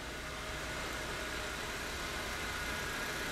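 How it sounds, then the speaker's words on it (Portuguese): A Honda Civic engine idles in a workshop after servicing, a faint, even hum with no change in pitch or level. "Funcionamento em marcha lenta desse Civic"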